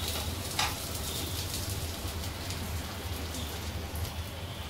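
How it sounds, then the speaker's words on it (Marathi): Eggplant slices sizzling in a pan for a traditional Maharashtrian dish, a steady soft crackle and hiss like light rain, fairly quiet and continuous with no talk. "दोन्ही साईडने मस्त फ्राय झालेले आहे वांग्याचे काप"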